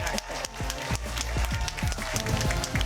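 A crowd applauds and cheers for the Polytopia world champion King Arthur at a grand final event, steady dense clapping throughout with a loud voice calling over it.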